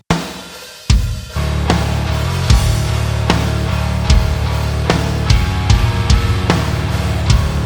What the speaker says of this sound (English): Let's add the bass.